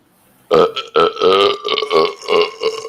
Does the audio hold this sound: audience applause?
no